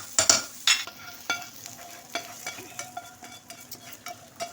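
A green coriander and green chilli tempering is stirred into mixed vegetables in a pan, with sharp scraping and clinking strokes at an uneven rhythm over a soft background sizzle.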